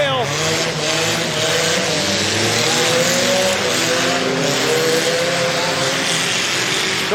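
Race cars on a dirt track roar and rev nearby, including a rear-wheel drive car, with engine pitch rising and falling steadily under a continuous loud crowd and announcer-style voice.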